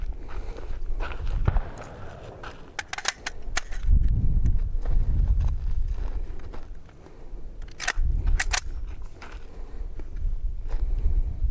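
Shots from a gun fitted with a red dot and magnifier combo ring out at an outdoor range, sharp cracks spaced a second or two apart, about five in all, with rustling, footsteps and handling noise between them and no talk.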